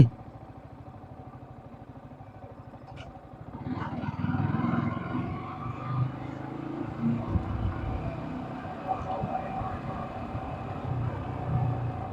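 A motorcycle comes up from behind on a village road, its engine swelling from a faint hum into a steady, close rumble with some rattling clatter.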